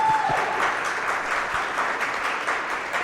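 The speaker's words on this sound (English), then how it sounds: "Give yourselves a round of applause for being here and putting up with our shit." Audience at a live podcast taping in an Atlanta brewery claps for a few seconds, a dense, moderately loud patter of many hands with a brief voice at the start.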